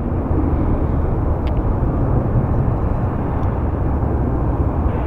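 Sun Country Airlines Boeing 737-800 landing at Calgary Airport, a loud, steady broadband jet roar that holds unbroken throughout with no voices.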